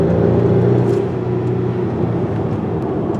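A 2021 Acura TLX SH-AWD Advance cruising on pavement, its steady road and engine rumble filling the cabin continuously at a constant, fairly loud level with no one talking.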